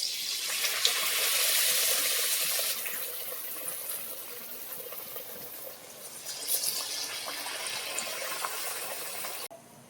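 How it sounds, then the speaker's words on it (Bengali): Eggplant fritters (beguni) dropped one by one into hot white oil give a steady broadband sizzle that swells near the start and again later, with no voices. "এবার আমি এক এক করে বেগুনিগুলো ছেড়ে দেব তেলের মধ্যে"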